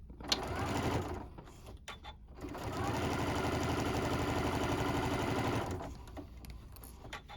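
A sewing machine stitches a tote bag in two runs, a short burst of rapid close whirring, a brief pause, then a longer steady run that stops, with light handling sounds around it.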